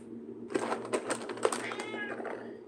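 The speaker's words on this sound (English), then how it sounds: "He meows at me like Armageddon is happening" A pet cat meows loudly and insistently at feeding time, several drawn-out, urgent cries in quick succession, close to the listener, with a steady low hum behind.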